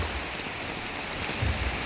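Steady rain falling outdoors on an evening street, a dense, even hiss of drops throughout with a few low bumps near the end.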